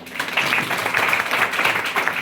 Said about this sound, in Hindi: बजाओ अपने लिए ताली।